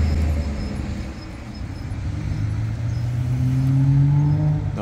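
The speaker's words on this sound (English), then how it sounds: "Oh good, our bus friend is taking off. So now we won't have to listen to the diesel idling in the background." Diesel bus idling in the background, then its engine note rising as it pulls away, a steady low rumble that grows louder over a few seconds with no talk.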